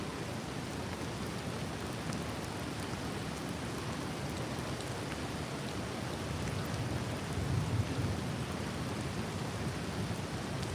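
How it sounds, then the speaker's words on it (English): Steady rain falls outdoors in the UK, a broad unbroken wash of noise close by that swells slightly louder toward the end, with no voices. "it's only a bit of rain, it's only a bit of water"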